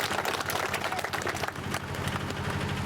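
A crowd at an election rally in Mamon village claps to welcome a guest, dense and steady applause filling the space for a few seconds without a break.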